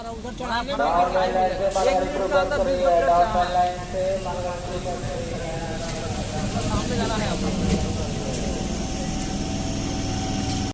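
A passenger train rumbles into a station platform, its engine drone and rolling wheels building then holding steady, with a horn-like tone early on.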